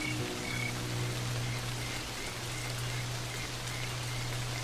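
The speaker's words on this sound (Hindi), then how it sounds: "लेकिन ये बेमौसमी बारिश बंद होने का नाम ही नहीं ले रही।" Unseasonal rain falls steadily on the African savanna, a constant close hiss of drops, while frogs croak in a low sustained drone beneath it.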